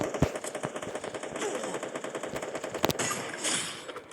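Rapid automatic gunfire from the mobile battle game Free Fire, a dense rattling stream of shots with a couple of sharper, louder single cracks, close and continuous with no talk over it.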